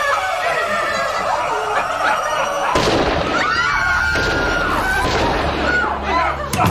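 A single sharp gunshot from a real gun cracks out in a tense indoor scene, followed by startled, overlapping voices and commotion.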